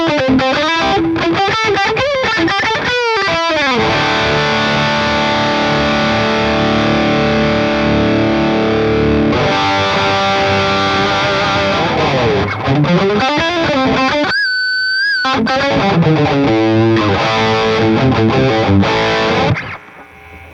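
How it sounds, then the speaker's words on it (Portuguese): An electric guitar plays through a Valeton GP5 Super OD overdrive pedal into a low-gain crunchy amp setting, giving loud, continuous, saturated chords and riffs with brief gaps between phrases. "eu gosto de usar esse Super OD, tá? É um pedal de distortion, de overdrive."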